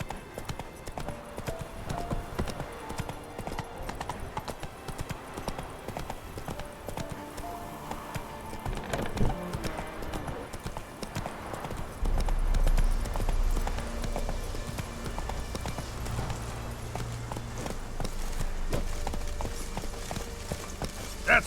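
Roach, the horse in the video game Witcher 3, gallops with a steady, rhythmic clip-clop of hooves that runs throughout, joined by a low rumbling bed of game ambience and music partway through.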